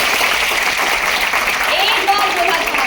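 An audience claps continuously at a business leadership talk, dense steady applause filling the room throughout.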